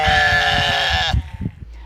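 Goats bleat in a loud, sustained, wavering cry that cuts off abruptly, followed by low thumping noise, heard close with no talk over it.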